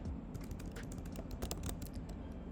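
Rapid clicking of computer keyboard keys as text is typed into a blank web page, a steady run of close, crisp keystrokes with no talking.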